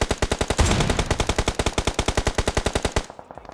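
In a loot-based shooter video game, an automatic weapon fires a rapid, evenly spaced burst of roughly ten shots per second. The sharp, loud cracks run continuously for about three seconds, then stop abruptly.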